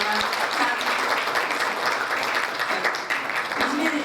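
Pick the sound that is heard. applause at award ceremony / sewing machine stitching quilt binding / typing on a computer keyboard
applause at award ceremony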